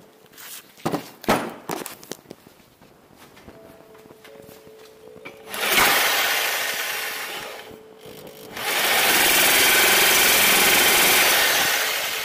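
A hand scraper drags across a steel workpiece in long, loud rasping strokes after a few sharp knocks and taps, with rough scraping passes close by.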